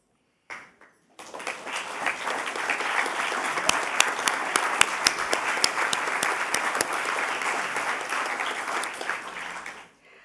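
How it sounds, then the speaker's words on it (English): An audience at a peace initiative event gives board members a round of applause that starts abruptly after a brief pause, stays steady and dense with a few sharp individual claps, then fades out. "you'll stand up so we can give you a round of applause"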